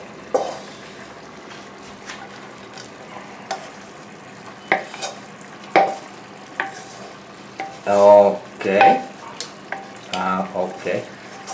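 Mushrooms and tomato frying in a pan for an Italian mushroom risotto, with a spoon stirring and scraping through them in bursts over a steady close sizzle, louder clatter in the second half.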